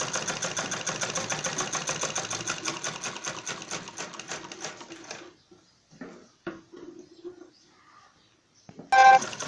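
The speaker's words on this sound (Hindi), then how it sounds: "देखिए दूसरी साइड से भी मैं ऐसे सिलूंगी इसको जैसे मैंने इसको सिला है।" Sewing machine stitching fur cloth for a zippered bag, a steady close mechanical whir for about five seconds, then short stop-start bursts of stitching.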